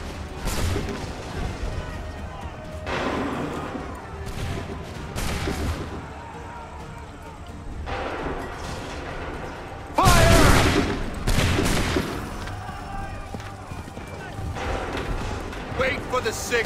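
Massed musket volleys crack out in the Assassin's Creed 3 video game. Several loud fusillades arrive at intervals, the heaviest about two-thirds of the way through, with voices talking over and between them.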